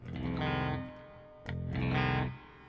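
Two sustained electric guitar chords played through an effects unit, washed in reverb and slight distortion, with a short pick scrape between them.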